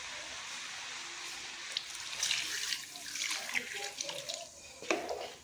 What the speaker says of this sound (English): Then I'm going with a little bit of water.